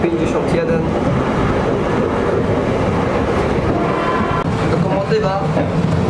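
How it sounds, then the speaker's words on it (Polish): Loud, steady rumble of a PKP EP07 electric locomotive hauling a TLK passenger train, with continuous rolling rail noise and faint clatter filling the whole stretch without a break. "pod lokomotywą. Lokomotywa EP07"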